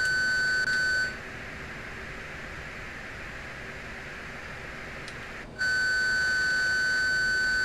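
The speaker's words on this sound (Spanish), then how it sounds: "Me está sonando el alarma." A cockpit warning alarm in the DCS F/A-18 flight simulator game sounds as a steady, high electronic tone over constant hiss. It cuts out for several seconds midway and then resumes at the same pitch, with no voices.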